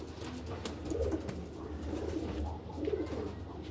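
Madrasi pigeons coo softly in a few low, rolling phrases against quiet background noise, close by but faint.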